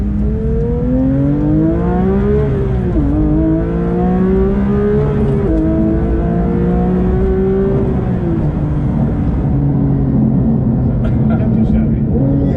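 Porsche 911 GT3 with a manual gearbox driving hard, its exhaust loud and close as the engine revs rise and fall through gear changes, a sustained wailing howl over the whole stretch with no talking.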